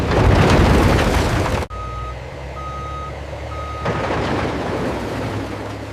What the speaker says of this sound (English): Each truck carries hundreds of tons of limestone.